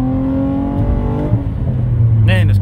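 A Nissan Maxima engine revving hard at full throttle, its rising harmonic whine climbing steadily before easing off, close and loud, with a brief voice near the end.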